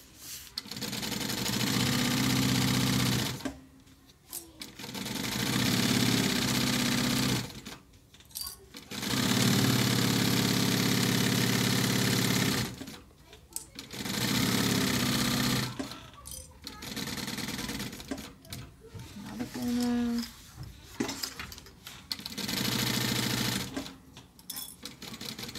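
Sewing machine stitching a fabric diaper cover, running in loud whirring bursts of a few seconds each with brief pauses between them, slowing near the end.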